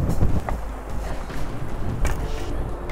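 Strong wind buffets the microphone aboard a fishing boat in the Arctic, a gusty, uneven rush of low roaring bursts that carries on throughout with no talking.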